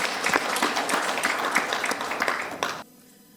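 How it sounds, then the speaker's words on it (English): Applause for the Afrinex launch team at a Pan-African exchange launch event in Mauritius: a dense burst of many hands clapping together that cuts off abruptly near the end, leaving near silence. "I think a round of applause to the team that has made this day happen."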